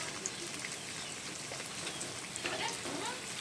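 Potatoes tossed with spices fry in a pan, giving a soft, continuous sizzle like light rain, with faint scrapes and stirring clinks near the end.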